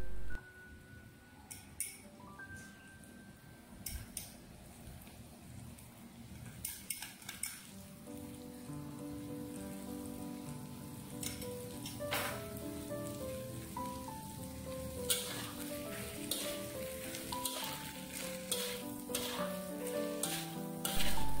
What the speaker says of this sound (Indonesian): Lalu kita aduk rata dan tumis hingga mengering dan wangi.